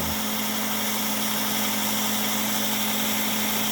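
A model train motor, driven through a solenoid and relay, runs with a steady mid-pitched hum and low vibration, fairly faint and continuous with no talk.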